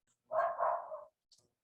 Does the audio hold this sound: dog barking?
yes